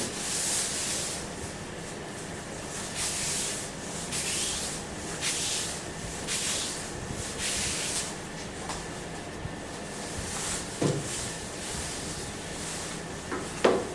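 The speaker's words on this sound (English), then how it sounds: "we're going to wipe away all of the sand and dust to prevent contamination with our filler" Cloth wiping sanding dust off a laminate surface with isopropyl alcohol, giving repeated soft rubbing and swishing strokes in a steady rhythm, close and fairly quiet, with a few small knocks near the end.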